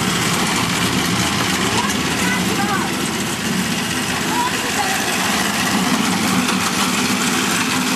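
A running lawn mower engine idles in a steady, loud, unbroken drone throughout, with a harsh buzzy hum and no clear change in throttle.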